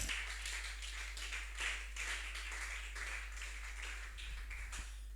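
A church congregation applauds in praise of the Lord, with steady, dense clapping from many hands at moderate loudness and no voices standing out.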